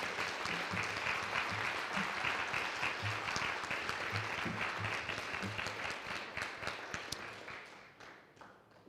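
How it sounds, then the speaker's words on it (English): An audience at a university Three Minute Thesis competition applauds the contestants, a continuous wash of clapping with faint low murmurs beneath, tapering off toward the close. "let them look at you while you applaud all of them for their work tonight"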